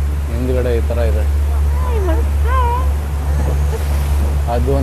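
A private boat moves on the water on a crocodile cave trip, its engine a constant low drone with washing water, while someone talks over it.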